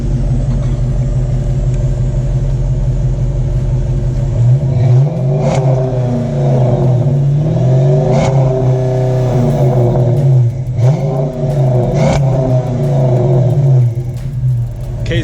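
A 2016 Ram Sport pickup's exhaust rumbles at idle, then the engine is revved repeatedly in several short blips, each rising and falling loudly and close by.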